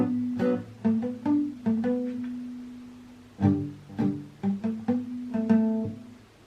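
A clean guitar plays a song's riff, with plucked notes and short phrases, some held and ringing over a low droning note. The phrase is repeated twice, close and clear with no voice.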